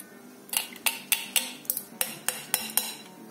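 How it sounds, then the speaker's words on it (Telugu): A spoon taps and clinks against a bowl in a quick, even rhythm, about ten sharp close strikes while stirring a mixture of milk, pepper powder, cardamom powder and jaggery. "ఒకసారి ఇలా మిక్స్ చేసుకుందాము, అంతా కూడా కలుస్తుంది."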